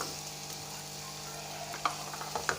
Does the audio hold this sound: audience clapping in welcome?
no